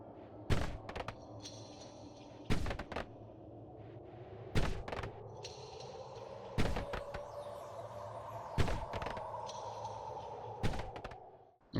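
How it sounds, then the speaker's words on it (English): In the video game Noita, heavy explosions thump at a regular interval of about two seconds against a quiet backdrop of faint, shimmering wind-chime tones and a low drifting drone. "listen to the amazingly creepy sounds of DJ wind chimes and explosions"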